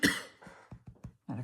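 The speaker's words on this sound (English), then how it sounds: "Had a coughing attack." A woman has a coughing fit, several short harsh coughs in quick succession, close and fairly quiet.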